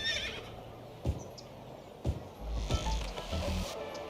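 A horse whinnies in a mock radio advert inside a city-building video game, a close, loud neigh with snorting and a few hoof clops beneath a faint music bed.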